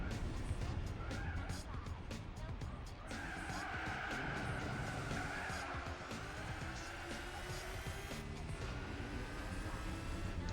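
Braking car in the racing video game Gran Turismo 4, engine and tire noise dense and loud throughout, with a rising squeal-like tone as the car slows into a turn; a voice talks over parts of it.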